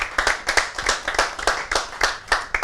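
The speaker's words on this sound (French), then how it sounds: "Applaudissements pour elles, s'il vous plaît." A TV studio audience at a makeup competition gives a short round of clapping for two contestants, a close, brisk and fairly even patter of hands.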